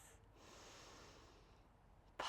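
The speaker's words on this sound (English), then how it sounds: "breathing in through the nose" A soft, steady inhale through the nose during yoga breathwork, faint and close for about two seconds, then cut off by a short, sharp burst of breath.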